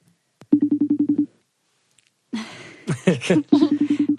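A telephone call to a friend produces a run of evenly spaced ringback tones, then people talk excitedly before the ringing pattern starts again, clear and close.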